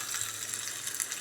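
Small shallots fry in hot oil on the way to browning, giving a close, even hiss of sizzling with faint crackles and no pauses.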